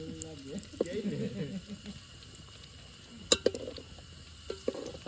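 Cashews and almonds fry in oil with a soft, continuous sizzle, punctuated by a few sharp utensil clinks and stirring sounds, while someone talks over the cooking.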